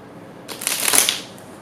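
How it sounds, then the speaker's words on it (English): Tarot cards being shuffled by hand in one brief papery burst of riffling, close and fairly loud, with no talking. "you can always shuffle, fast forward through me shuffling."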